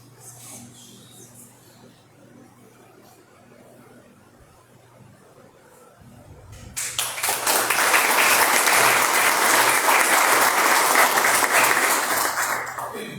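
Applause from a gathered audience after a spoken prayer, starting quiet and then swelling into dense, loud clapping that holds steady before easing slightly at the end.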